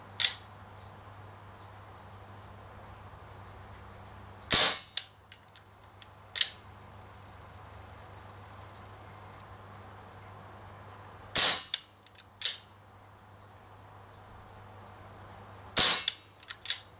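Umarex Smith & Wesson M29 BB revolver fired double action at targets, giving five sharp, loud snapping shots spaced a few seconds apart over a steady low hum.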